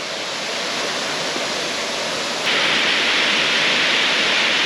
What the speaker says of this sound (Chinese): 这是旧寮瀑布下方的小瀑布